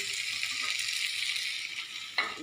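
Potatoes fry in a pan with a steady, close hiss and crackle, then a sharper sizzling burst near the end, with no talk.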